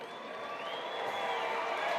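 A crowd at an AMA Endurocross Round 5 event in Scottsdale, Arizona, applauds and cheers for a motocross rider, a steady broad roar of clapping and voices that swells slightly toward the end.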